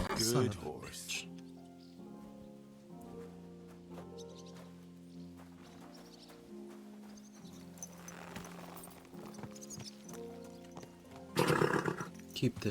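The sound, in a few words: horse neighing and hooves in the video game Kingdom Come Deliverance 2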